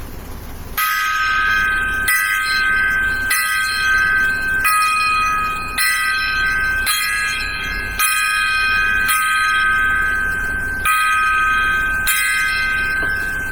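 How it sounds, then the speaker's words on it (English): A gong is struck at an even pace as a ten-strike salute, each loud ringing hit sustaining until the next, with nine clear strikes followed by a final ring. "We'll do a 10-gong salute"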